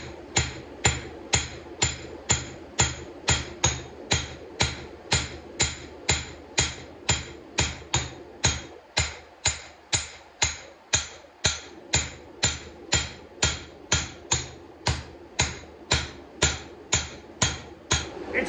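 A forging hammer strikes steel on an anvil while beveling an integral Damascus kitchen knife, with close, loud, evenly spaced ringing blows repeating about twice per second, briefly pausing and softening before resuming.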